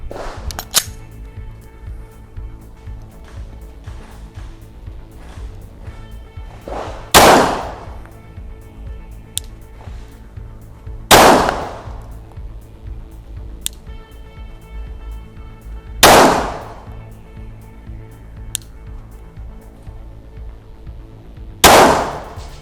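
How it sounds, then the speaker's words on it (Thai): Four loud, sharp shots from a Glock 17 pistol fired at a target, evenly spaced about four seconds apart, each one a close crack with a short ringing tail over faint background noise. "ยิงที่ระยะประมาณหนึ่งนะครับผมใช้การกะเอา เล็งไปที่หัวนะครับ"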